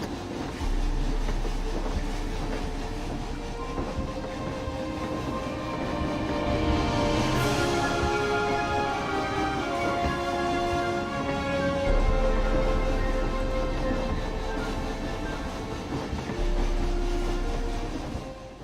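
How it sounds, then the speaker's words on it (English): A train ride in the Planet Coaster video game, a continuous rolling rumble of rail wheels and carriage noise with a rising swell partway through, heard alone with no talk. "let's ride the train."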